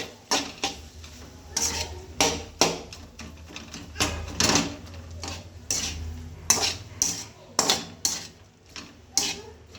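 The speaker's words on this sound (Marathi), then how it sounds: "एकजीव करूया आणि झाकण ठेवूया 5 मिनिटं" A spoon stirs eggplant bharit in a pan, with repeated scraping clinks and clatters against the metal in an uneven rhythm over a soft sizzle, heard close and fairly loud.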